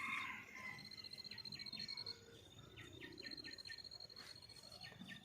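Crickets chirp in quick repeated trills, a steady high pulsing pattern that comes in short groups, faint against quiet outdoor background noise.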